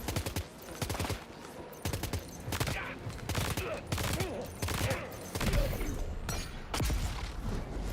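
Rapid bursts of in-game gunfire from Death Stranding 2 crackle repeatedly across the whole stretch, dense volleys with a few heavier booms mixed in, loud and close.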